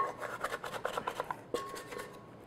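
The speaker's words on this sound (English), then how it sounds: "I'm just gonna give this a scrape." A utensil scrapes soft brioche dough in a quick series of close, rasping strokes, followed by a short knock and a quieter final scrape.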